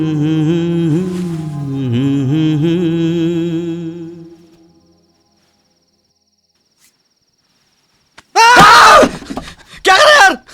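In a Hindi comedy film scene, a man lets out a loud, sustained, wavering scream for about four seconds. After a silence, two short, sharp vocal outbursts follow.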